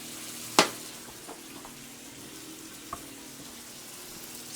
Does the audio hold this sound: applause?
no